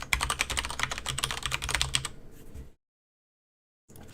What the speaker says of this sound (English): of course type my user and password